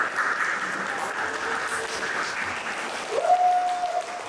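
A crowd applauds steadily at a cosplay round-table panel during a convention, the clapping sustained and fairly loud, with a faint tonal whine entering near the end.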